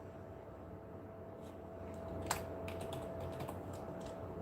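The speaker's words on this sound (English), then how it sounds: "I'm typing check." Quiet keystrokes on a computer keyboard tap in irregular bursts over a low electrical hum, with one sharper click partway through.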